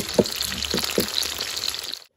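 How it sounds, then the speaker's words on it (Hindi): Paneer cubes frying in oil over a medium flame for chilli paneer, giving a close, crackling sizzle with a few soft stirring knocks early on. The sound cuts off abruptly near the end. "अभी पनीर को मीडियम फ्लेम में फ्राई करेंगे।"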